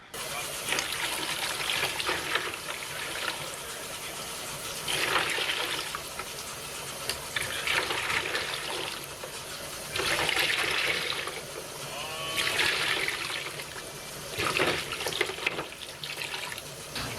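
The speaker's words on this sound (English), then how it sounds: "And then the rest of it you fill up with warm water." Warm water runs from a tap into a container in a few long, steady bursts with pauses between them, close and fairly loud.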